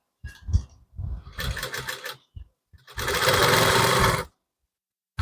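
A sewing machine stitches a blouse neck in short close bursts, a brief run, pauses, then one longer steady whirring burst before stopping, with a few soft handling sounds in the quiet gaps.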